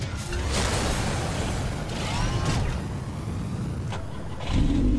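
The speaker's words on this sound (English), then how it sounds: "Oh my god, it's the Batmobile." The Batmobile's engine in the video game Batman: The Telltale Series, a deep sustained motor rumble that swells and revs, with a louder surge near the end and no talking.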